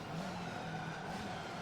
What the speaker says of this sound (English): The sounds of these cars are really good on this game.